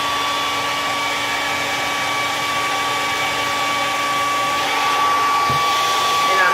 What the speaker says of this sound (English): Okay, so I'm blow drying it.